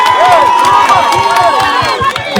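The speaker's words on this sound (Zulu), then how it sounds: "ake niyishalele ihlombe eMzimkhulu." A live crowd at a South African music show in eMzimkhulu cheers and applauds loudly and continuously, with shouts and whoops rising over steady clapping throughout.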